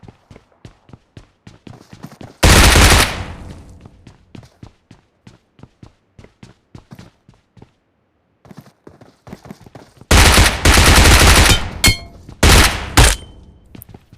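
Video game battle with loud sustained bursts of automatic gunfire, interspersed with rapid rhythmic footsteps in between, close and punchy.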